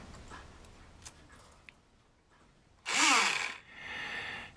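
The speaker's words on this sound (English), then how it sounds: "Now, this little Tamiya drill has really worked out good, and it was fun to make." A small Tamiya drill runs for a short buzzing burst while working on a model ship, preceded by faint ticks and a quieter whir afterward.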